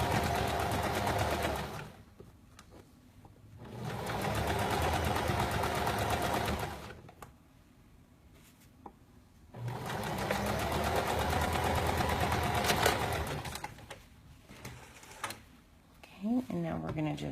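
A home sewing machine runs a 3/8 inch seam through garment fabric in two long bursts of steady whirring, with pauses between and a shorter run at the end; someone talks over the quiet gaps.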